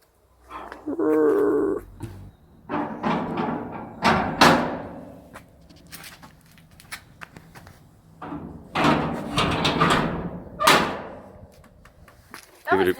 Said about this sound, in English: You're gonna close the doors, you're gonna do the honors?